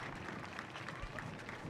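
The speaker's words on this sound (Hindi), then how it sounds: "जोरदार तालियों से इनकी हौसला अफजाई करें।" Brief burst of crowd applause at the 53rd Raising Day parade of the Sashastra Seema Bal, a dense patter of clapping heard from a distance, fairly faint and continuous.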